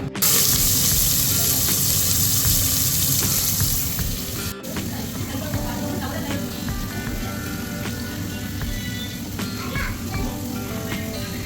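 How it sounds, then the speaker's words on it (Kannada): Running water rushes loudly at first as field beans (avarekai) are washed in a kitchen, then a softer wet splashing and sloshing continues, with talk over it. "ಈಗ ಇತ್ಕದ ಅವರೆಕಾಯಿನೂ ತೊಳ್ಕೊತಾ ಇದ್ದಾರೆ"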